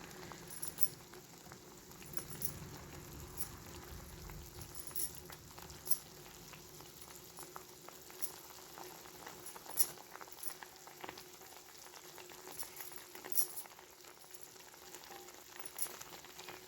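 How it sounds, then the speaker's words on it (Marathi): Soft, steady bubbling and faint crackling of a pot of chakolya simmering on low heat on the stove, with occasional small pops, quiet and continuous. "पाच सहा मिनटं मंद आचेवर शिजून द्यायचं"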